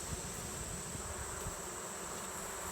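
Honeybees buzz in a steady, dense drone around an open hive during an inspection as it is being closed up, a continuous hum with no talking.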